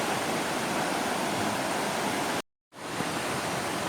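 The Asahan River at the Bedeng nature spot rushes in a loud, dense, continuous wash of flowing water, broken by one abrupt silent gap of a fraction of a second before the steady roar returns.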